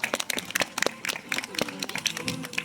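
Quick, scattered hand claps from a zoo audience after a sea lion show, close and fairly loud, bursting for a few seconds.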